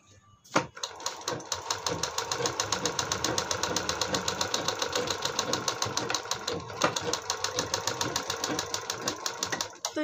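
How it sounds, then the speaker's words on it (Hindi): A sewing machine stitches fabric for a decorative latkan tassel, a fast, steady run of rapid mechanical clicking that continues nearly the whole time after a brief start. "यहाँ से लेंगे हाफ हाफ इंच पकड़ते हुए हम इसको सिलाई को लगा देंगे।"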